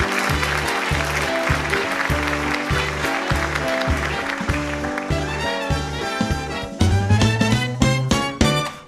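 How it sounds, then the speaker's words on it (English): An audience gives a warm round of applause for a guest on a talk show, the clapping blended with a strong, rhythmic music cue that swells louder near the end. "let's have a warm round of applause for Franklyn C."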